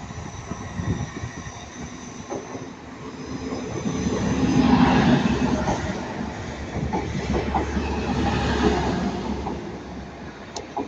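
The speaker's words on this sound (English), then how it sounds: "195126 is here and the Transpennine coming now" A TransPennine Express train passes through Ardwick station, its rumble swelling, easing and swelling again with rhythmic wheel clatter on the rails, heard from the platform with no talk.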